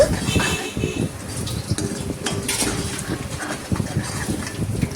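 A ladle scraping and clinking against a pan while palkova milk sweet is stirred, soft irregular metallic ticks under a steady hiss of cooking.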